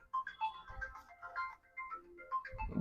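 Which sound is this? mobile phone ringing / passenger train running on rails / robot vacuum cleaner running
mobile phone ringing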